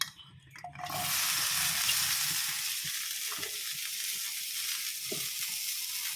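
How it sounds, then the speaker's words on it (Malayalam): Chopped okra and green chillies hit a hot pan and burst into a loud, steady sizzle after a brief quiet moment, with faint stirring beneath the hiss. "ഇനി വേണ്ടത് നമ്മൾ അരിഞ്ഞ് വെച്ചിരിക്കുന്ന ഈ വെണ്ടയ്ക്കായും പച്ചമുളകും കൂടി ഇട്ട് കൊടുക്കാം"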